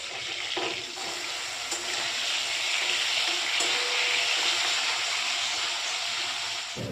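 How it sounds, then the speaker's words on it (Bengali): Katla fish pieces coated in salt and turmeric fry in hot mustard oil, a loud, continuous close sizzle with a few faint clinks of a utensil. "গরম তেলের মধ্যে কাতলা মাছের পিসগুলো দিয়ে দেওয়ার পর কিছুক্ষণ আমি ওই রকমই ভাজতে দিয়ে দিয়েছিলাম।"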